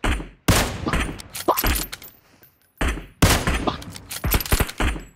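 Rapid bursts of gunfire ring out in a battle royale game during a competitive scrim match. Loud volleys are separated by a short quiet gap, and sharp shots cluster near the end.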